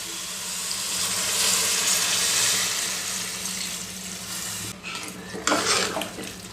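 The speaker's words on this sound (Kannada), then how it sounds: "ಈಗ ಒಂದು ಸಾರಿ ಈ ರೀತಿ ಕಲಿಸ್ಬೇಕು ನೋಡಿ" A spoon stirs chana dal with vegetables and added water in a pot, a steady wet scraping and swishing near at hand, ending with a few clinks against the metal rim; nobody speaks.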